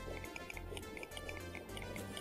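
Water in the video game Terraria, heard as a steady bubbling, dripping liquid sound with small repeated high plinks over a busy game background for a couple of seconds.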